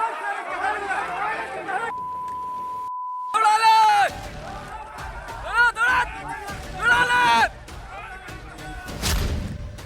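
Angry crowd of rioters shouting and screaming during a violent protest with vandalism and stone-pelting in Prayagraj, loud overlapping yells in bursts, interrupted by a brief censor beep and gaps.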